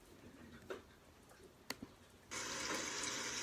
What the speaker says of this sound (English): And that's just showing us draining the water.